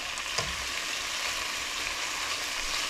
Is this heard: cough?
no